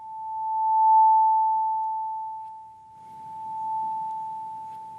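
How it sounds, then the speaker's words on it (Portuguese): A pure 880 Hz sine tone sounding steadily and alone, clean and unbroken, swelling slightly louder and softer across several seconds. "quando a gente aumenta a frequência, o som fica mais agudo. Ó, este tem 880 Hz."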